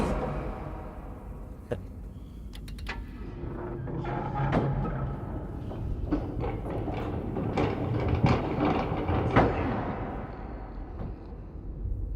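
A rail cart in the video game Inside rumbles along its tracks, a continuous low rolling rumble with metallic clanks and squeals rising and fading over several seconds.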